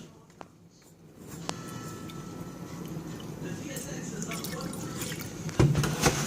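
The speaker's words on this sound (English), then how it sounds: "what I'm going to do for the sauce is add some milk" Milk is poured into a sauce in a home kitchen, a steady wet filling sound that starts after a quiet moment and keeps running, with a few brief clinks near the end.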